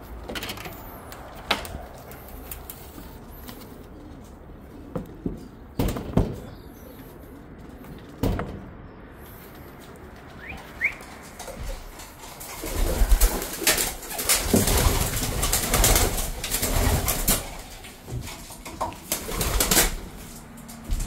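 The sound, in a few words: racing pigeons released from loft, cooing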